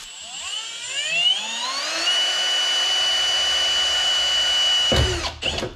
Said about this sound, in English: Go ahead and grab a drill.